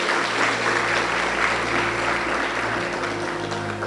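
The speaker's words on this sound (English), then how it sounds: "A round of applause," Audience applause for an ambassador and his wife at a talk event on female genital mutilation in Kenya: steady, dense clapping from a crowd, loud and continuous throughout.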